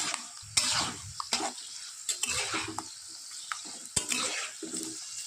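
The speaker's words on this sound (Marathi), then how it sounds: "चांगलं भाजायचं खोबरं ते असते ना असं नाही करत चांगले ना लालसर होऊ द्यायचं खोबरं ते" Grated coconut is stirred and roasted in a pan for spicy Kolhapuri chivda: repeated scraping strokes of a spoon over a soft, continuous frying sizzle, close by.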